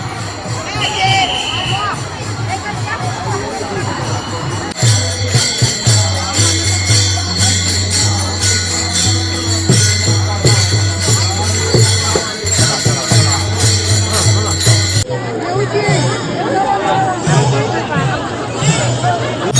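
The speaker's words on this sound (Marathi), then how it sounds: "सगळ्या दिंड्या आल्यात ना, आम्ही गर्दीत फसलो" A dense, loud crowd of pilgrims at Pandharpur during the Ashadhi Ekadashi yatra fills the space with overlapping chatter and shouting voices, a constant roar of many people close by.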